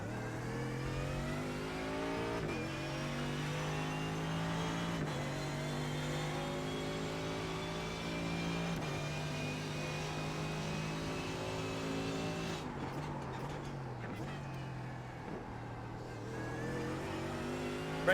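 A race car engine in the iRacing sim revs high and steady, then drops in pitch as the car brakes and downshifts, and the engine alone carries throughout.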